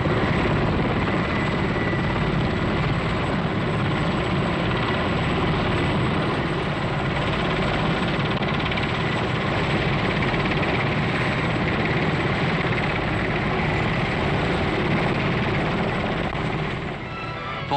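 Military helicopter in flight from 1962, a continuous loud rotor and engine clatter with dense steady thrumming, holding close and unbroken before easing slightly at the end.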